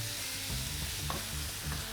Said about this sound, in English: I'm going to add the mutton mince to it, and you should hear the sizzle